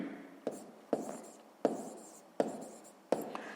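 A pen writes by hand on paper while a sixth-grade math problem is worked out, with five distinct tapping strokes followed by short scratchy scribbles, close and fairly quiet.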